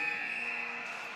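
End-of-period buzzer at a national-level ice hockey bronze medal game, a single steady electronic tone held for over a second, loud against faint arena background.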